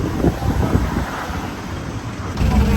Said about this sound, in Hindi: क्या अमेजिंग लग रहा है यहाँ से, क्या तो हवा चल रही है।